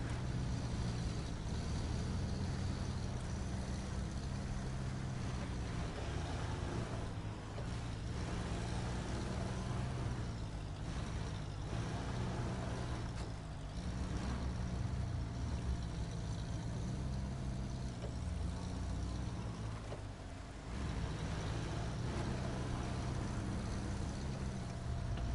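A heavy truck engine in the off-road driving game SnowRunner drones loud and steady with a deep low rumble, rising and falling slightly in load over a long stretch without talk.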